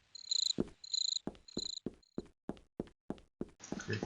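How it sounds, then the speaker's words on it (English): Crickets chirp in a video game map, sharp repeated high trills in short bursts, alongside a string of evenly spaced taps like footsteps, ending in a brief noisy rush. "Crickets, not so much."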